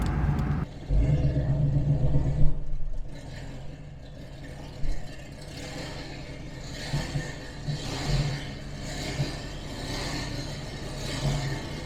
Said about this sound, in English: It's the first time I've driven this car in like a long time.